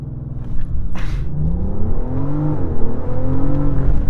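A BMW M760Li V12 engine pulls hard under acceleration, a loud steady rumble with rising harmonic tones sweeping upward as revs climb, heard from inside the car with no talking.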